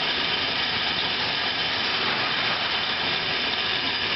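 A Hardinge HLV-BK 11-inch by 18-inch precision tool room lathe running with its carriage traversing, producing a steady, dense mechanical whir that holds even throughout, close and continuous, with no voices.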